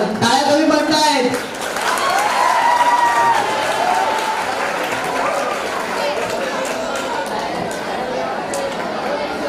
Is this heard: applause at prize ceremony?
yes